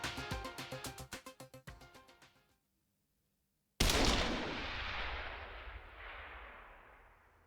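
Gunfire in the video game The Silver Case: a rapid run of sharp shots slows and fades, then silence, then one heavy, booming blast rings out and decays slowly.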